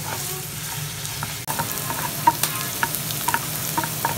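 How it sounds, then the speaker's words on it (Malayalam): Ginger garlic paste sizzles and fries steadily in a hot pan, with occasional stirring clinks and scrapes over the continuous close crackle, no voices present. "ഇത് നന്നായിട്ട് ഗോൾഡൻ കളർ ആവുന്നവരെ നമുക്ക് വഴറ്റി എടുക്കാം."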